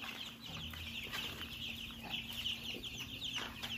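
Hens in a mixed flock of Easter Eggers, laying hens and Sapphire Gems cluck softly and intermittently in a coop, quiet and somewhat distant, over a steady electrical hum with no talking.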